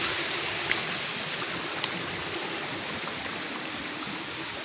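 A small farm stream rushes and gurgles steadily as someone wades across it on foot, a constant broadband water wash with a couple of faint splashes, no talk.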